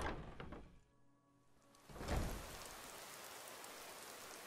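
Rain falls steadily in a video game: a soft hiss that dips briefly, then returns fuller after a dull thunk, faint and even, with no voices.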